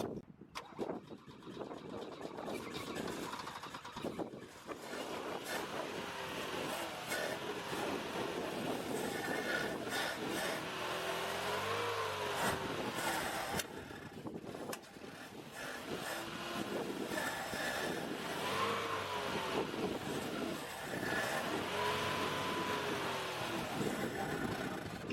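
A 1980s-era Audi 80, abandoned for 18 years, runs on gravity-fed gasoline with a rough, steady engine drone that rumbles on for the whole stretch, briefly dipping and picking up again, with no talking over it.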